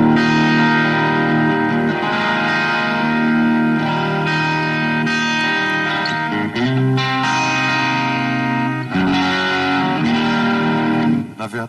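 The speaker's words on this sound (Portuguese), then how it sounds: "eu uso um delay de repetição praticamente todo, porque eu uso a guitarra mais com uma textura do que propriamente com um ataque dos acordes" Sustained electric guitar chords ring through a repeating delay effect, with echoing tails layered into a dense, continuous texture. The chords change every few seconds and stay loud throughout.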